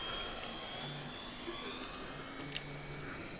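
Electric twin-motor E-flite Twin Timber RC airplane flying overhead, a steady faint whine of the motors and propellers holding at a distance with soft wind noise throughout.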